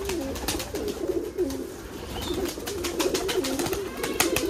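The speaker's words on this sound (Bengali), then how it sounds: "এটা বাজির কবুতর" Racing pigeons on a pigeon farm coo in repeated low, throaty rolling calls, several birds overlapping close by with steady rustling and faint background noise.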